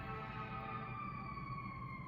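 Emergency vehicle sirens wail steadily outdoors in a faint, continuous tone over low background rumble, with no talking.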